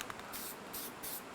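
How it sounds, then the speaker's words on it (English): Black guide coat hisses from an aerosol spray can in three quick, fairly soft bursts, each lasting a fraction of a second, heard close up at an auto body repair. "make sure it's spraying black"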